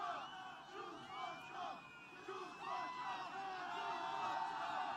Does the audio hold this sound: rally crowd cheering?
yes